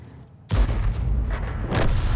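A tank cannon fires in World of Tanks, a sudden deep boom that rings out and keeps rumbling, with further heavy shots building behind it.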